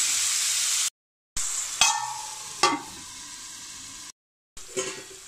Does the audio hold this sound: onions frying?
yes